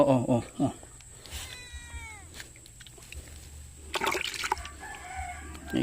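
A cat meows near a tilapia fish pond, with a few drawn-out calls in the middle and a rooster and other farm birds sounding around it.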